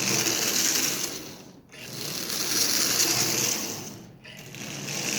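A rusty Marx double reduction toy locomotive motor whirs with a steady, close buzzing drone. It cuts out briefly twice, near the 1.6 and 4.2 second marks, then spins back up.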